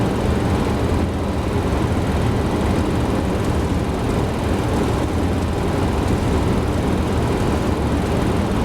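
Steady, loud broadband roar of airliner jet engines in X-Plane 12 on an Alaska Airlines flight from Seattle to Juneau, continuous and unbroken throughout with no voices.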